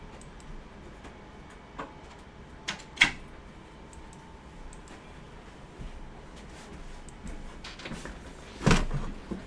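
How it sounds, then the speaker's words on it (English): A door at home shuts with one dull thud near the end, after a few faint clicks over a low, steady room hum. "we gotta close that door"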